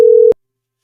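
A single telephone ringing tone heard during a phone call: one steady mid-pitched electronic beep lasting about a third of a second, loud and clean, then silence.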